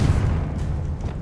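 A Confringo fire spell bursting in Hogwarts Legacy, a single heavy, loud boom with a rumbling low body that fills the whole short moment.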